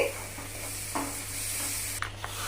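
Paste for paneer butter masala stirred in a hot pan, a continuous sizzle broken by a few scraping strokes of the spoon and light clinks, close and without speech.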